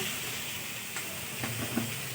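Food frying in a wok (kadai) while mango chutney is being made, a steady soft sizzle with a few faint clinks or stirs, moderately quiet and without talk.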